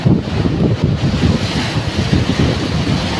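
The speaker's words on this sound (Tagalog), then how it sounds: "Napakalakas ng alon" Heavy surf crashes continuously during a typhoon while strong wind buffets the microphone, a loud, rough roar with no voices.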